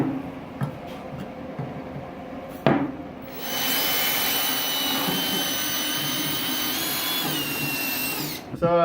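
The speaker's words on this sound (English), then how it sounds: "So we got this tiny little bit here, and we're just going to pilot all the holes." A few light knocks come first, then a power drill with a tiny bit whines steadily for several seconds while boring small pilot holes for a Pit Cruiser tricycle build, and it stops near the end.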